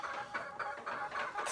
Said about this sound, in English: this chicken's been loud